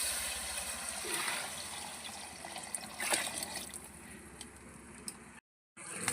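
Water trickles and splashes steadily into a cooking pot of banana flower biryani, a continuous liquid pour with a brief silent gap near the end.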